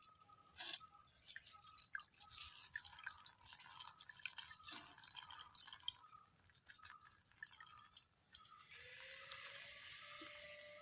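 Water drips and trickles steadily from cloth-wrapped fresh paneer as the whey drains, in close, quiet surroundings, with a soft continuous wet hiss building toward the end.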